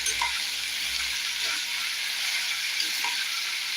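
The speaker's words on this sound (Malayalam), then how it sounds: "നന്നായിട്ട് ഇളക്കി കൊടുക്കാം കേട്ടോ" Potato curry being stirred in a pressure cooker for soft chapati, a steady close sizzle and frying hiss with faint spoon scrapes throughout, no talk.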